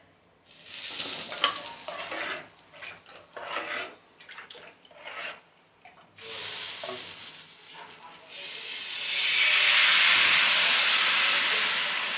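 Ghavan batter of flour and water poured onto a chapati griddle, with loud sizzling and hissing that comes in bursts, briefly breaks off, then swells into a sustained steamy hiss.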